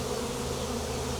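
Honey bees of a large wild swarm fan their wings on the ground, making a dense, steady, close buzzing drone with no talking.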